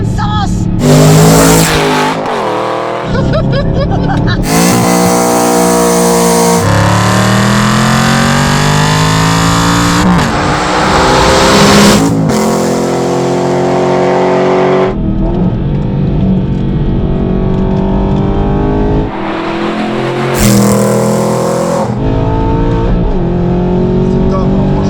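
An Aston Martin V8 Vantage driven hard, its loud engine revving and surging through gear changes with sharp rises and drops and a brief tyre squeal, while people talk excitedly over it.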